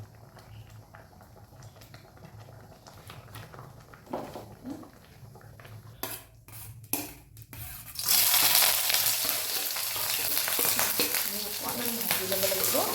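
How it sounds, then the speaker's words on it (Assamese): Egg and night jasmine flowers frying in hot oil: a quiet kitchen background at first, then a loud, steady, crackling sizzle that fills the second half at close range. "অকণমান ভাজি ল'ব লাগিব।"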